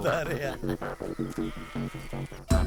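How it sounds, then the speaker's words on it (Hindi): A goat bleats repeatedly in a wavering, nasal cry while being lifted up, close and insistent, with voices talking over parts of it before a sharp noise at the end. "क्या रे, बकरी क्यों उठाया?"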